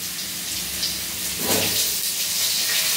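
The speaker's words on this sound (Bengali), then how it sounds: "তারপরে আমি এই আলুগুলো ভেজে নেব একটু হালকা লাল লাল করে।" Potatoes frying in oil in a pan for a Kolkata-style chicken stew give a steady, hissing sizzle that swells briefly midway and continues on its own.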